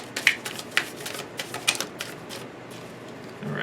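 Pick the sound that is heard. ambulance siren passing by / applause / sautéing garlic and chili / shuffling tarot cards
shuffling tarot cards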